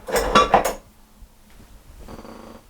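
Ricotta being spooned into a kitchen bowl for a scone filling: a quick cluster of close, loud scraping knocks against the bowl, then a pause and a softer, longer rustle of handling.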